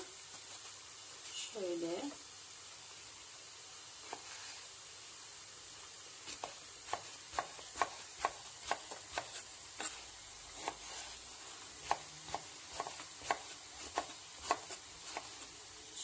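A faint steady sizzle of eggplant frying in oil, with soft pops and clinks of a utensil; a voice speaks briefly near the start.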